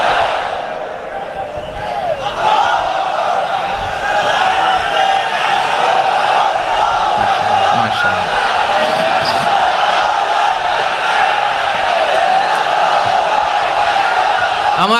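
A large crowd at a sermon gathering chants takbir, Allahu Akbar, in unison, a loud, sustained swell of many voices that holds steady for several seconds.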